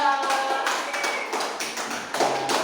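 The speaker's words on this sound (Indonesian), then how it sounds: "kasih tepuk tangan buat Mbak Dinda." Pupils in a school classroom clap for a classmate in short uneven bursts of close, sharp hand claps. A voice comes through faintly between the claps.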